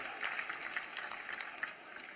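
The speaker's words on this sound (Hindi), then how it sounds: "और राम स्वरूप जी के लिए भी जोरदार ताली बजाओ।" A crowd at an outdoor political rally in a Haryana village claps in a steady, moderately distant patter that holds throughout and fades slightly at the end.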